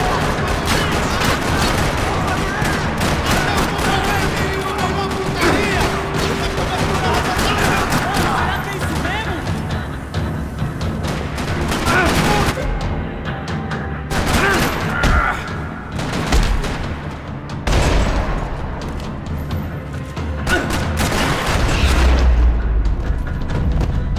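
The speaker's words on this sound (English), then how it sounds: "Another parking lot rattling with gunfire." Rapid bursts of gunfire rattle across a parking lot in the video game Max Payne 3, with dense, sustained shooting and booms filling the scene over a steady bed of game sound and occasional voices.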